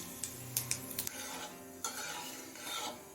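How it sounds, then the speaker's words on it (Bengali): Black cumin seeds frying in hot mustard oil over a high flame, with a steady close sizzle broken by a few sharp clinks of a spoon against the pan. "কালো জিরেটা দশ পনেরো সেকেন্ড ভেজে দিলাম"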